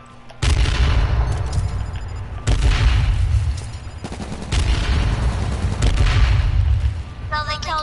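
Loud booming blasts and gunfire in the video game H1Z1, several heavy explosive hits spaced across the stretch with rattling shots between them, close and dominant.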